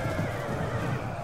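A horse whinnies in the battle game Total War: Rome II, a steady, fairly loud neigh mixed with faint hoofbeats and battlefield din, with no talk over it.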